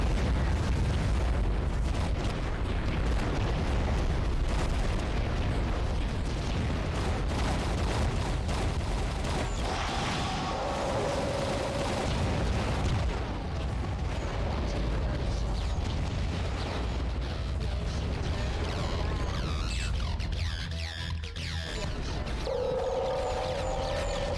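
Torpedo explosions in the underwater game AquaNox, a dense, continuous roar of booms and bursts, loud and sustained throughout with no talk.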